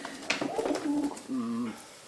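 A racing pigeon coos softly and close, a couple of low, rolling calls over a quiet background.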